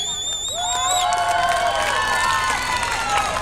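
A crowd of boys in the audience at the Sirsi Utsava 2025 festival comedy show cheers loudly, with whoops and whistle-like shouts over scattered clapping, all continuing through the clip.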